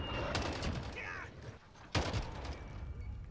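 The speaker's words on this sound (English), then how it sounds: "Who's shooting at me?" Gunfire in the Modern Warfare video game: a few sharp shots sound above a noisy battle background, while a voice talks over them.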